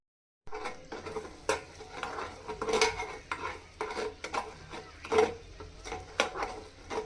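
Sugar caramel cooks in a bowl on a stove over medium-low heat, heard as repeated utensil scrapes and clinks against the bowl with a faint sizzle underneath, close by and without speech.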